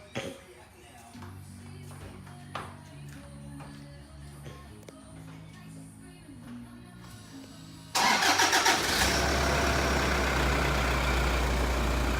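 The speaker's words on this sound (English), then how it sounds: "I'm just gonna start the car" A Toyota Prado 150 engine cranks and catches, then settles into a loud, steady idle close by; light rustling and handling noises come before the start.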